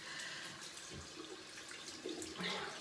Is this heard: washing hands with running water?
yes